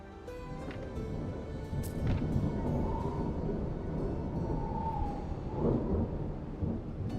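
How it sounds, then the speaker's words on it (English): Heavy rain and a rumbling thunderstorm in the Roman-era city-building game Anno 117: Pax Romana, a dense, steady wash of downpour with low rolling thunder, loud and continuous throughout. "the rain hurts my ears"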